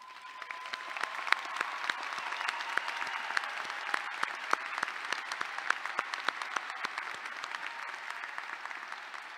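Steady applause from a commencement audience in a large venue for honors college graduates standing, many hands clapping evenly at moderate distance, no talk over it.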